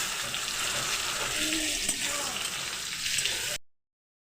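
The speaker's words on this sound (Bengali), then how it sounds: "এবার এই আলুগুলো এখানে ভেজে নেব।" Potatoes frying in oil in a kadai, a steady, close hiss and sizzle filling the clip before it cuts off abruptly.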